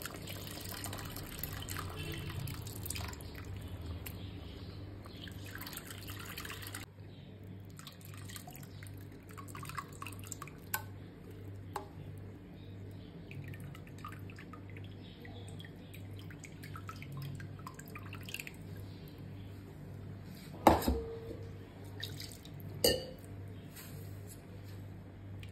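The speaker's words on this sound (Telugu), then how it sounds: "ఇప్పుడు ఇందులో నేను చింతపండు పులుసు వేస్తున్నాను." Tamarind juice is poured into a cooking pot, making soft liquid drips and splashes, close and fairly quiet over a steady low hum, with a few louder clinks near the end.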